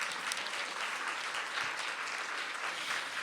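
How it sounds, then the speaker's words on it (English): Full, dense applause from a large audience at an education awards night, honoring awardees, a steady sustained roar of clapping with no gaps throughout. "Let's give them all a big round of applause."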